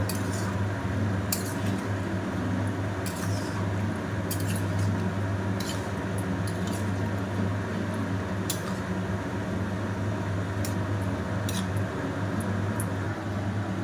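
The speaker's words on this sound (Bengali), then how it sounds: "ছড়িয়ে দিয়ে আমি একটু নাড়াচাড়া করে নেব" Chili chicken is tossed and stirred in a pan with scattered metallic scrapes and clinks over a steady, loud background hum, with no talking.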